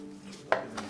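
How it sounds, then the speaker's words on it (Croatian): Vegetables being chopped into rough pieces for a venison dish, cooked outdoors: a few sharp knife strikes on a board ring out close by, with faint clinks and a low background hum. "očistiš svo povrće i nasjeckaš na nekakve grube komade"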